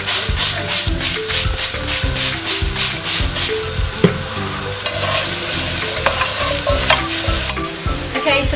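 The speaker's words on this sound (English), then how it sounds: "we're going to put all of the leeks in and the shallots, and we're going to stir fry this for 5 minutes" Leeks, shallots, garlic and tarragon stir fried in a pan, with a steady loud sizzle under rhythmic scraping and stirring strokes and a few sharp clinks of the utensil against the pan.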